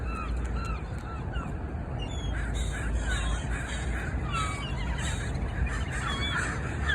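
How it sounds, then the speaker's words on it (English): Gulls and crows squabble over tortillas thrown by hand in Seattle, their overlapping calls and caws rising from a steady low rumble of outdoor background noise, with no talking. "now we got a battle of the birds this morning, boys and girls. We got the seagulls coming in."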